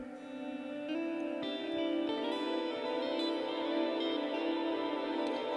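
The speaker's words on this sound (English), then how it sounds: "I know the echo will last at least a minute" An electric guitar sustains a ringing note through an echo effect, the repeats blending into a dense wash of overlapping tones at a steady, fairly loud level with no voices.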